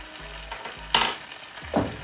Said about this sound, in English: Lowish heat and just continue to allow it to sizzle.